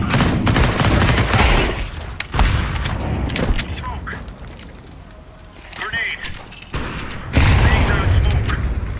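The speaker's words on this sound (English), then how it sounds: "Throwing flashbang. Throwing flashbang. Smoke. Grenade." Flashbang and grenade explosions in a video game, as loud booms and bursts of gunfire-like blasts rolling almost continuously, with a voice talking over them.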